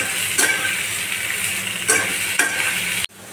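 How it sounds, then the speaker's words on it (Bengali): Ridge gourd, greens stalks, eggplant, potato and green chilies frying in a pan, giving a close, continuous sizzle with a few spoon scrapes before the sound cuts off abruptly. "সবজিগুলো একটু ভাজা ভাজা হবে"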